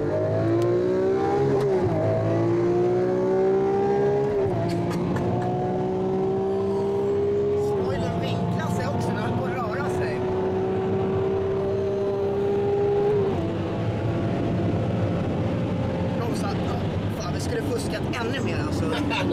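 A Lamborghini at full throttle, engine note climbing in repeated surges with several gear changes, loud and close over a busy rushing background while people talk over it in Swedish.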